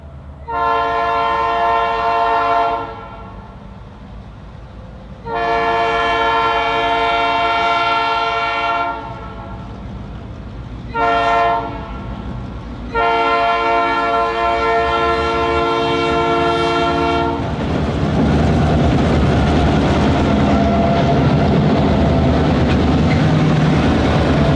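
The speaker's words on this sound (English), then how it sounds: "we followed the Chattooga and Chickamauga Railway from the Chickamauga battlefield to the Norfolk-Southern Interchange in Chattanooga" A Chattooga and Chickamauga Railway short-line train, a former Central of Georgia line near Chattanooga, Tennessee, sounds its horn loud and close in the long, long, short, long crossing pattern. The heavy rumble and rattle of passing cars follows.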